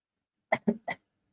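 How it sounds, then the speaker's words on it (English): Three quick coughs in a short burst from a person with flu, close and fairly loud, then silence. "apologies, undergoing a cough, a flu right now"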